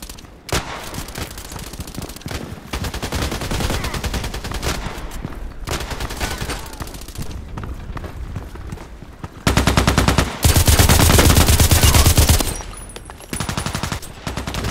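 Rapid automatic gunfire in the Contract Wars video game, on the Terminal 2 map with 416c and Veresk weapons: sustained loud bursts and volleys fill the whole stretch, with a denser, heavier burst near the end and no talking.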